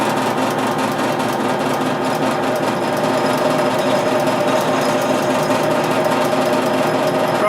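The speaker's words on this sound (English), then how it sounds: "And might have to turn up the drill press a bit" A steady mechanical whir of a running drill press, loud and unbroken, with a constant motor drone and a faint rapid chatter throughout.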